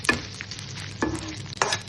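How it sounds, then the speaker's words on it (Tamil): Appalam (papad) frying in hot oil in a pan, a steady close sizzle with three sharp crackling bursts as pieces hit the oil, alone with no talk. "இந்த கடையிலே பாப்பளம் பொரிக்க போகிறேன்."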